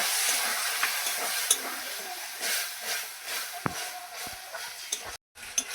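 Snails cooking in a pan with spice masala of cumin, coriander, garam masala and chilli powder, a steady hiss and sizzle with scattered scraping stirs and a few sharp clinks, fairly faint and without talk.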